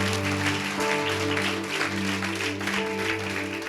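Audience applause at a church gathering, a steady, loud wash of clapping from a crowd that holds throughout without pause.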